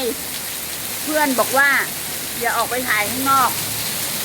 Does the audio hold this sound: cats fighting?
no